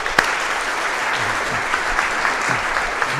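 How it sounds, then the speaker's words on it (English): A room of meetup attendees claps together in sustained, even applause that fills the space, with a few faint voices underneath. "Let's give a round of applause."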